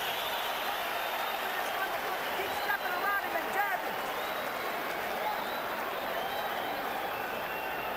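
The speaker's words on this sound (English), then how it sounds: "the crowd rises in appreciation of the action" A boxing arena crowd at a Quartey vs Vargas fight roars and applauds steadily after a late-round flurry, a dense wash of cheering and clapping that holds loud throughout with no talk over it.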